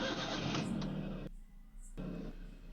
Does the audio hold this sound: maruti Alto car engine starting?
yes